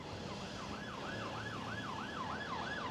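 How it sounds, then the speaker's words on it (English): An ambulance siren wails in a steady rising and falling cycle on a Blackpool street, distant and faint above constant traffic rumble, with no talking. "Oh, I can hear sirens."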